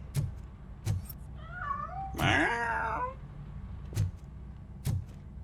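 A cat meows in the video game Robocop Rogue City, giving one drawn-out rising yowl in the middle, while sharp footsteps or knocks land every second or so before and after it.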